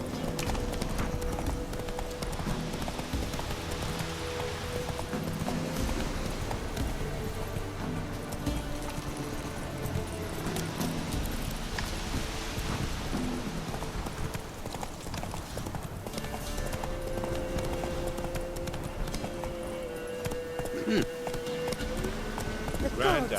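Roach, a horse in The Witcher 3: Wild Hunt, gallops in rhythmic clip-clop hoofbeats that continue for the whole stretch, with game music and ambient sound layered underneath.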